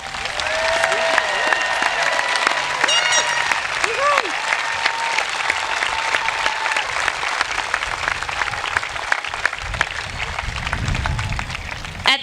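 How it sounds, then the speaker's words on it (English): A large crowd applauds the graduates at a high school graduation ceremony, sustained, loud and dense clapping with scattered cheers and whoops rising above it throughout. "Let's give our graduates a round of applause"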